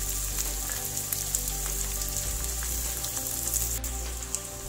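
Ginger and small onions frying in hot oil, a steady close crackling sizzle like light rain, with a low background hum and no talk.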